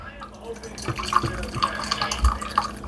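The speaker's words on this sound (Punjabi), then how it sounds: "ਇਹਦੇ ਵਿੱਚ ਥੋੜਾ ਪਾਣੀ ਅਸੀਂ ਕੱਢ ਲਵਾਂਗੇ" Water drained from boiled pav bhaji vegetables makes a short run of trickling and dripping with light splashes and clinks of a pot, close by, with a faint murmur of voice.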